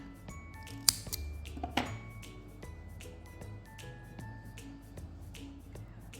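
Scissors snip excess yarn from a small crochet puff flower keychain, a few sharp close clicks and cuts against a quiet room background.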